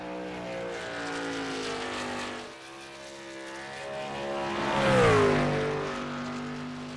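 A race car in a sim racing qualifying session at Watkins Glen drones steadily at partial throttle, its engine note easing and then rising in pitch as it passes near, with no talk over it.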